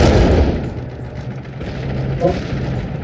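Tank cannon fire and explosions in a Roblox tank battle game, a heavy blast opening the clip followed by rumbling booms and a sharper burst, loud and dense.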